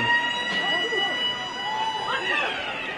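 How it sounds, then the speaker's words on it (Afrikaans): A siren marks the end of the first half at an under-15 schoolboy rugby match, Affies vs Noordheuwel. It sounds as a wavering tone beneath loud commentary and crowd noise. "Die sirene wat die einde van die eerste helfte aandui."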